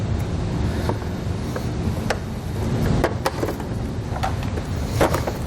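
Plastic retainer clips are pried out of a car grille cover by hand, producing scattered close clicks, snaps and creaks over a low handling rustle, with no voices.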